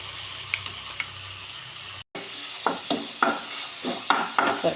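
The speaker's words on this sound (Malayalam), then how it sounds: "ശർക്കരയും പഴവും ഈത്തപ്പഴവും എല്ലാം നല്ല കുഴമ്പ് പരുവത്തിലായി വരുന്നതുവരെ നന്നായിട്ടൊന്ന് ഇളക്കി കൊടുക്കാം." Jaggery, banana and dates are stirred in a pan, with soft sizzling and a run of scraping knocks from the spoon after a brief gap.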